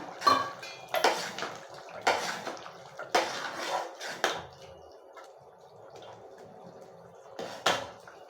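Cooked spinach and lentil sambar is ladled from a pot into a bowl, giving a few separate clinks and wet sloshes spread out over several seconds, with quieter gaps between them.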